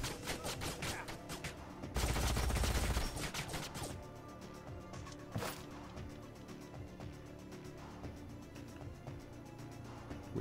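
Gunfire in the sci-fi strategy game Age of Wonders: Planetfall: a brief dense burst of automatic fire rings out, followed by scattered quieter shots and impacts over a low game soundtrack.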